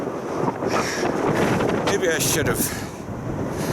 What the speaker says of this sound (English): the wind is pushing against the camera.